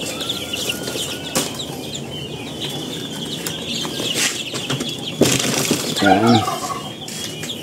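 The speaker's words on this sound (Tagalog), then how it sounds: "May isang kulungan pa tayo doon ng mga sisiw." Chicks peep and chickens cluck from a cage on a farm, close and fairly loud, with rustling and wing flaps throughout and a brief voice speaking near the end.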